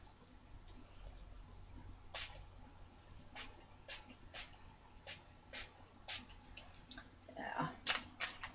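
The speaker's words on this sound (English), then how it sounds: "let's spray some of that Postbox red on it." Short hissing bursts of Postbox red spray paint sprayed onto an art journal page, about a dozen quick spurts of varying length in an irregular rhythm, close but fairly soft against a quiet room hum.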